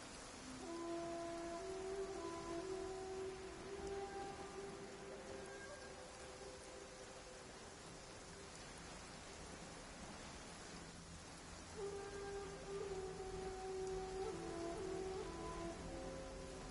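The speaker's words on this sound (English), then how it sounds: "If this rain keeps up, my fur will be dripping wet." Soft, steady rain falls in the video game Genshin Impact, a faint, even hiss beneath sustained musical tones that continues throughout.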